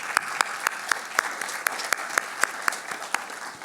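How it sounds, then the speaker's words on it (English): Steady applause from a conference audience, dense clapping with sharper individual claps standing out at a regular pace, moderately loud and without voices. "Let's give all these folks a round of applause this morning."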